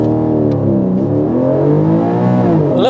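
A Porsche 718 Cayman GTS 4.0 pulls hard on a launch run, its engine note climbing steadily in pitch through the rev range, loud and close with no gaps.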